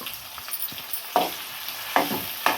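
Tomato sizzles steadily in a hot pan while a spoon scrapes and stirs in a few sharp strokes, close up.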